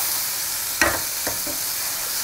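Green peas and spinach dry bhaji being stirred and fried in a pan: a constant soft sizzle, with a few brief spoon scrapes cutting through near the start, close by and without speech.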